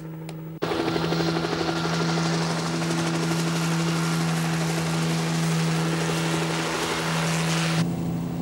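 PH202 reconnaissance helicopter in the anime Macross, flying low with a loud, steady rotor thrum and whine that cuts in abruptly and holds for several seconds.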